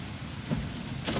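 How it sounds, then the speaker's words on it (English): A Tesla Model 3's windshield wipers sweep with washer fluid: a faint, quiet motor whir with two brief swishing passes against a low background hiss. "if you need to turn on the windshield wiper fluid, you press the end of the stalk, press and hold the button in"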